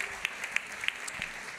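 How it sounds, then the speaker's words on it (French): Scattered, sparse claps from a gala audience at a business awards evening, faint and thin with only a few distinct hand claps standing out over a quiet room. "Merci de les applaudir."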